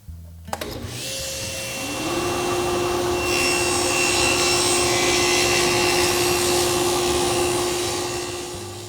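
Table saw making its first dado cut in wood: the motor spins up with a sharp start, then a steady loud whine with a rasping cutting roar that holds throughout, with no talking.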